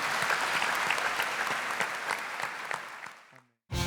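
A church congregation applauds after a Catholic priest's sermon, a dense, steady wash of clapping that holds for over three seconds, then thins out and fades, with one brief loud burst at the very end.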